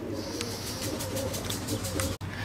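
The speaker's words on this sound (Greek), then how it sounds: "τα περιστέρια αρπάξαν, έρχονται" Pigeons coo softly and steadily against a dense, constant outdoor background, with the low cooing notes running through the whole short stretch.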